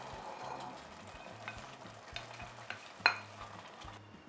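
Chili con carne with beans and chocolate bubbling and simmering in a pot, a soft steady cooking hiss with a few faint clinks and one sharper clack near the end, no talking.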